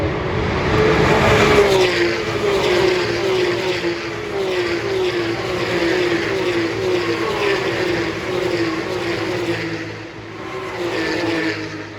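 Porsche Carrera Cup race cars at the start of a race in Adelaide, engines roaring and revving as the field accelerates away, with a loud sustained drone and rising pitch sweeps as cars pass.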